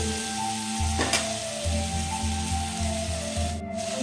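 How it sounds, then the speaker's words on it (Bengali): Spices, pumpkin and potato sizzling as they are sautéed in a pan for a Bengali hilsa dish, a steady loud fry with rhythmic low scraping strokes of stirring and a brief clatter. "এবার এটাকে খুব ভালো করে আবার একটু কষাতে হবে"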